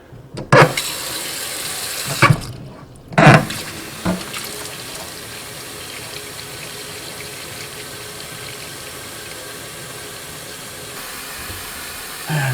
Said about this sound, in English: while the sink is filling up with water